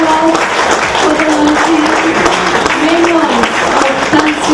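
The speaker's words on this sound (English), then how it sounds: "let's give another big round of applause" A large audience at a Malaysian book launch for Tan Sri Ani's memoirs gives a loud, steady round of applause that fills the whole stretch, with a voice faintly heard over it.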